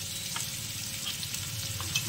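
Spices being stirred into food frying in a home kitchen pan, with a steady, close sizzle and faint scraping of the spoon throughout.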